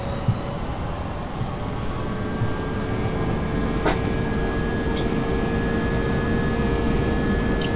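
Airbus airliner engines roaring steadily during takeoff in a flight simulator game, a constant loud broadband rumble with a few faint clicks over it.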